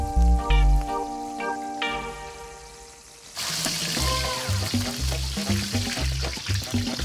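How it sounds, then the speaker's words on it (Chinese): Mould-pressed potato cakes at a roadside food stall dropping into hot oil, starting with a tonal ringing clatter, then a loud steady frying sizzle with bursts of crackling and rhythmic low thumps, no speech. "模具压实的洋芋粑进入热油的怀抱，表面噼里啪啦逐渐变成金黄"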